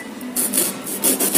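Foam on a Hero Splendor motorcycle seat is cut and shaved in close, rasping strokes, several short scraping bursts following one another without talk.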